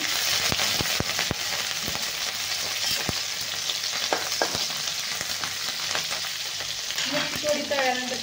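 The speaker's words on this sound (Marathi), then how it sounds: "तेल आपलं चांगलं गरम झालेलं आहे, त्यात टाकणार आहे आपण लसूण।" Garlic frying in hot oil crackles and spits steadily up close, with scattered sharp pops throughout and a brief clatter of stirring near the end.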